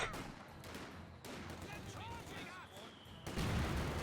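Machine-gun bursts and scattered battlefield gunfire from the video game Company of Heroes 2 rattle at a middling distance under a commentator's voice, swelling louder near the end.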